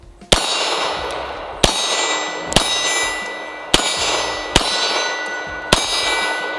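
Six Beretta M9 pistol shots, fired double action and left-handed, each a sharp loud crack with a ringing tail, spaced roughly one second apart.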